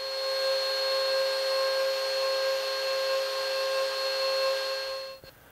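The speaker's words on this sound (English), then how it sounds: "take a 1/2 inch drill, put the dowel on the end of it, and tighten it in, because you have to spin this" A 1/2 inch power drill spins a wooden dowel with a steady, high whining hum and strong tonal overtones, running loud and even for about five seconds before winding down abruptly.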